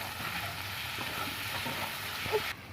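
Onions fry gently with turmeric and ginger-garlic paste for a tomato fish chorchori, giving a continuous soft sizzle with light stirring scrapes before the sound cuts off abruptly near the end.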